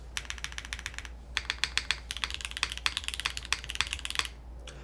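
Fast typing on a mechanical keyboard with fully modded Gateron Milky Yellow switches, a polypropylene plate and GMK keycaps: a close, crisp run of light clacks in quick bursts with a short pause.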